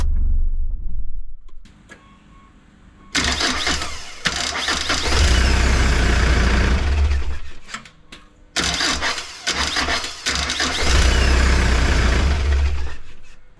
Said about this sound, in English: So the car did start there, but there was a fair bit of clicking